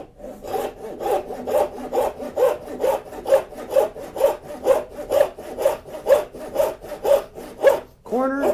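A tenon saw cuts wood for a dovetail half lap joint, making steady, evenly paced back-and-forth rasping strokes, about two per second, close and clear, ending with a brief squeak.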